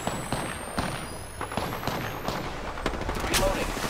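Bursts of Apex Legends gunfire crackle through a busy firefight, with rapid repeated shots and impacts over a steady game din, and a voice talking at moments.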